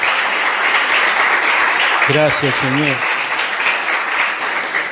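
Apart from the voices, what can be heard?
church congregation applause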